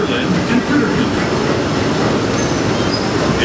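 The Disneyland Railroad train runs on its rails near New Orleans Square Station, a loud close continuous rumble of wheels and carriages with faint squeals, with a voice heard under the noise.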